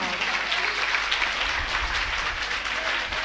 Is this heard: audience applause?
yes